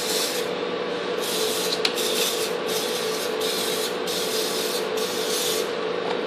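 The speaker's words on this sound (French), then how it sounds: "C'est de la graisse, en fait," Spray grease from an aerosol can hisses steadily into cake moulds for a chocolate fondant, close and continuous for about six seconds, with brief surges in the hiss and no talking.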